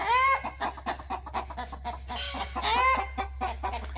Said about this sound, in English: Look at these good roosters doing their jobs.